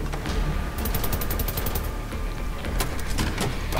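Rapid bursts from a charged gun in Wolfenstein: The New Order, a fast crackling volley of shots with sharp individual cracks, loud and close over a dense background din.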